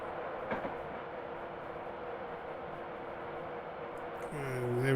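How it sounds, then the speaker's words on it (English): A train passes in the Train Simulator Classic game on a Newcastle to Edinburgh run, a steady rumbling roll with faint rail clatter that swells near the end as a tonal horn-like sound enters. "So just give the train a minute to pass"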